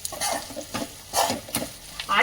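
A spatula stirs onions and potato sabji in a frying pan, giving close, uneven bursts of scraping and sizzling that rise and fall every half second or so.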